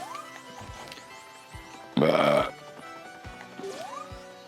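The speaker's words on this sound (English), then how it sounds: "I'm gonna burp." A loud burp bursts out for about half a second in the middle, rising above faint game music and sound effects from the Sonic Utopia demo.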